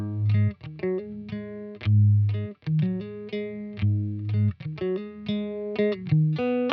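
A clean electric guitar played through a Line 6 Helix with modulation and delay picks a melodic line of ringing single notes and low bass tones, each note shimmering slightly and trailing off, close and fairly loud with no talking.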